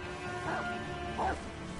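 A hostile dog in the video game Sekiro: Shadows Die Twice barks twice in short bursts, about a second apart, over a steady low game ambience.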